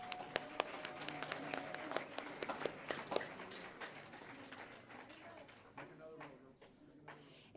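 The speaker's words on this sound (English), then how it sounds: "Can we give them another round of applause?" A school awards assembly crowd gives another round of applause for the state champion girls' choir. Scattered, uneven claps ring out, close and sharp at first, then thin and fade, with faint voices underneath.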